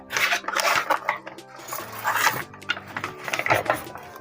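Biryani tipped out of a heavy full bowl, giving a run of clattering, scraping knocks of dish and utensil in short bursts, close and moderately loud.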